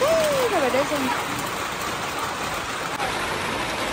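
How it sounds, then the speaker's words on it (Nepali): Heavy rain pours steadily on a dark early morning, a dense continuous hiss filling the scene, with a voice briefly audible near the start over the downpour. "डरलाग्दो पानी परेको हौ"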